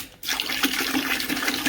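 Water pours steadily and fairly loudly into a mead mixture in a home kitchen, starting abruptly after a brief quiet moment and continuing as a splashy, gurgling stream with no talk.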